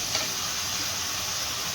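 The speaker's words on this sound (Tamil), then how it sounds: "எண்ணெயிலே நல்லா வதங்க வச்சிடணும்." Onion and green chilli sauté in hot oil, giving a steady, even sizzle and hiss that stays close and constant throughout the short stretch.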